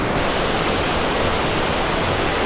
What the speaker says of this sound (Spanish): La primera cascada que nos encontraremos es el baño de Diana